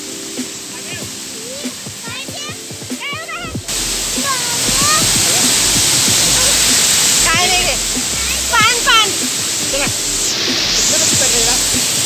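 Mama Falls waterfall roars in a steady, loud broadband rush that swells after a few seconds, with scattered birdsong and faint voices in the background.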